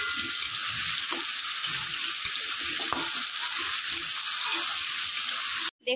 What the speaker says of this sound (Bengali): আলুটাকে 5-7 মিনিট ধরে ভালোভাবে ভেজে নেব।